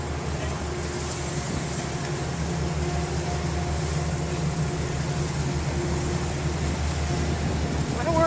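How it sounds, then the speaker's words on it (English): A commuter train pulls out of Croton Harmon station, a steady, heavy low rumble and broadband rail noise holding even and fairly loud throughout, with no clear voices. "there's a train departing Croton Harmon for somewhere"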